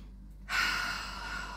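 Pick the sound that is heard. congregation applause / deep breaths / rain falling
deep breaths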